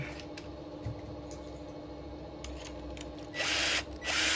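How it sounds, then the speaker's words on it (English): A power driver whirs in two short, fairly loud bursts near the end, sinking small wood screws into a wireless hand control base, after a quiet stretch of low room hum. "We'll screw this down."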